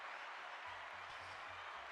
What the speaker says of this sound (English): Round of applause from live studio audience for Captain Dan